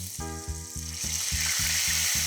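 Beef stock poured into a hot buttered pan, hissing into a strong, steady sizzle that swells and brightens after the liquid hits, with rhythmic music pulsing beneath it and no talking.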